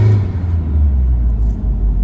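BMW Z3 engine running with a loud, steady low rumble close by, rising and falling slightly as it revs, with no talking.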